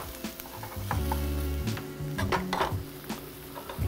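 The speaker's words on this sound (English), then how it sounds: "Add another ladle of stock." A ladle of stock hits a sizzling mushroom risotto in the pan, giving a close, loud hiss and bubbling, with a spoon stirring and scraping against the pan, and no talking.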